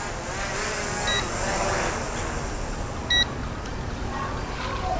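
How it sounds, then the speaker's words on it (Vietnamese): The remote controller of a Visuo Zen K1 camera drone gives low-battery warning beeps: two short, thin beep bursts a couple of seconds apart, faint over a steady hiss of outdoor noise. "pin yếu cho nên là lên trên remote nó liên tục báo bíp bíp bíp"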